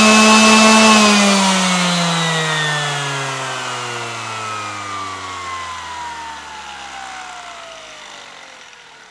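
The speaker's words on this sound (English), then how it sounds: "let's take a look at three different sanders and wind down speed" A Mirka power sander switched off and winding down, its whine gliding steadily lower in pitch over about nine seconds as the motor coasts to a stop, loud and close at first and fading.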